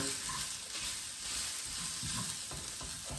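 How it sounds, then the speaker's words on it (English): Curry oats with chicken stock stirred in a pot, a steady close sizzle and bubbling with soft scraping stir strokes throughout. "And I'll give that a bit of a mix around."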